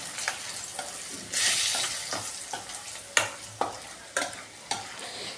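A spoon stirs rice with asafoetida and turmeric in a hot pan, giving soft scraping strokes and a steady sizzle that rise and fall in several distinct bursts, close up, with no talking.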